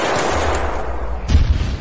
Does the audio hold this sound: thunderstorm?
no